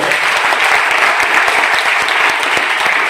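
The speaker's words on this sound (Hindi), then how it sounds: "एक बार इनके लिए जोरदार तालियां" Audience applause at a network marketing seminar in India, a dense, steady roar of many hands clapping at a strong, even level throughout without speech.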